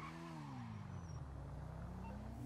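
A Bugatti-style Adder supercar in GTA 5 drives away with a steady engine drone that rises gently in pitch, carrying on without a break under a faint tire hiss.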